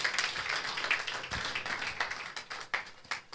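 A church congregation at a Sunday service clapping their hands in praise, with many hands in a loose, continuous patter, somewhat distant and soft.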